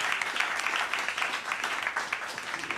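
A live folk concert audience applauds at a small studio venue, a dense steady wash of many hands clapping throughout, fairly near and sustained without talk.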